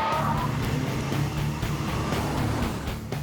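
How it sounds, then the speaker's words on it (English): Two cars accelerate toward an engagement zone flag at a MythBusters test, a steady loud engine roar with tire noise filling the whole stretch, no talking. "Both cars accelerate towards the red flag of the engagement zone"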